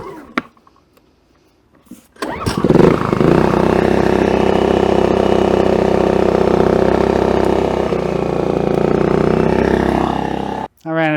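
A portable generator engine starts after a quiet opening and runs loud and steady as a constant droning hum for about eight seconds. It cuts out abruptly near the end, with a brief sound after.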